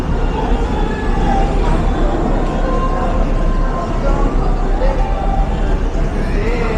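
An LRT light rail train rumbles in a steady, loud, continuous roar, with crowd babble and scattered voices mixed in nearby throughout.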